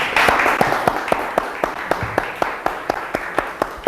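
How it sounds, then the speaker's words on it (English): Audience at a stand-up poetry reading clapping steadily in even, evenly spaced claps, close and distinct, as though from a small group or a single clapper, with faint murmuring behind them. "Could we have one more round of applause for today's speaker?"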